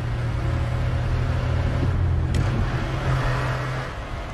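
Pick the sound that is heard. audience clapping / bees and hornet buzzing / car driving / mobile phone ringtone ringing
car driving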